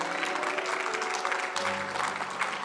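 A church congregation applauds in a steady wash of clapping that fills the room with many hands at once, with no talk over it.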